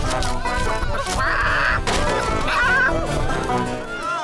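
Cartoon chicken escaping in a children's animated kingdom show, clucking and squawking in short bursts over busy music and voices, loud and close.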